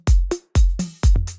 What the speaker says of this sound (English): Then layer it with acoustic head loops.